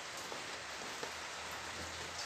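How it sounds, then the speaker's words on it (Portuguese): Light rain falls outdoors in steady, even hiss, soft and continuous with no gaps, heard alone without voices. "Tá caindo uma chuvinha."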